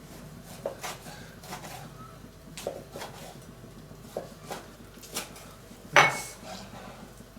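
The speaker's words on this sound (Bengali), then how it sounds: "এখন আমি স্টেকটা কাটবো" Knife cutting through a pan-seared medium steak on a plate, giving repeated faint scraping clinks of cutlery against the dish, with one sharper, louder clink near the end.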